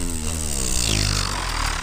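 A person's mouth imitates a chainsaw in a beatbox sound, a loud, buzzing, raspy drone with a rough revving quality that holds steady for a couple of seconds.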